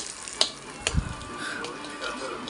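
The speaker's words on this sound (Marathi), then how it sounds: "राई तडतडून झाल्यावर जिरा आणि अख्खी मिरची आणि कढीपत्ता टाकली" Mustard seeds, cumin, whole dried chillies and curry leaves crackle in a hot oil tempering, giving a few sharp, scattered pops and spits over a steady background hiss, close by.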